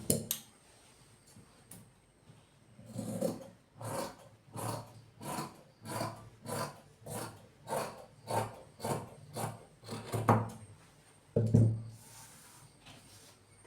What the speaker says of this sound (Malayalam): ഈ കട്ട് ചെയ്ത ഭാഗത്ത് ഈ നൂല് കിടക്കുന്നത് ഈ തുണി അങ്ങ് ലെവൽ ചെയ്യുക, കട്ട് ചെയ്ത് മാറ്റാം